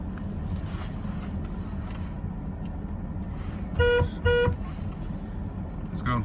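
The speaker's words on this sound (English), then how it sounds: "So that's why I'm honking the horn again." A car horn gives two short honks in quick succession, loud and close, over a steady rumble of engine and road noise.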